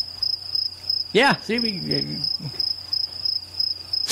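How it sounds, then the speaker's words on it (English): A cricket chirping sound effect plays during a radio talk show, a short burst of high, steady chirps running under the hosts' voices, with people talking over it throughout. "Do you get crickets on that thing?"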